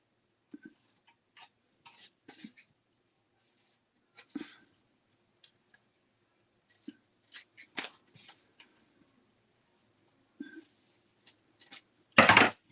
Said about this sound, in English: So I'm just going to trim off that tape there.